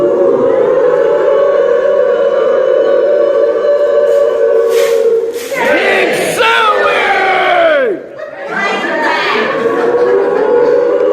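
A large outdoor crowd at a Fort Smith, Arkansas and Cisterna, Italy twin-city celebration doing the Arkansas hog call: a long, loud, sustained group wail that breaks into rising and falling yells and then swells again.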